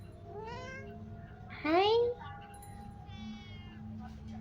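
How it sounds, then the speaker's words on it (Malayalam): A cat meows in the video game Baby in Yellow: one loud, rising meow near the middle, with fainter mewing around it, over steady game background noise and a person talking. "പൂച്ചയെ നമുക്ക് കൂട്ടായിട്ട് തന്നതാ"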